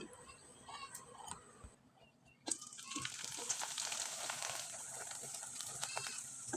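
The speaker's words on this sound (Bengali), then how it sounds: "এবার আমি কয়েকটা পিঠা আপনাদের তেলে ভেজে দেখিয়ে দিচ্ছি" Wheat-flour pitha dropped into hot oil, a quiet stretch of clicks and handling giving way after a sharp onset to a steady, bright frying hiss that holds close and fairly loud to the end, with no talk over it.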